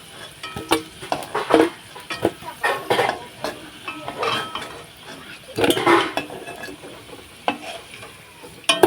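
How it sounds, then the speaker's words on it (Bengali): Fried potatoes scooped with a metal spoon from a pan of hot oil into a bowl: repeated scraping and clinking of utensil on cookware over a low sizzle, close and uneven in rhythm. "এই যে আলুগুলো কিন্তু এই বাটিতে তুলে নিচ্ছে এখন"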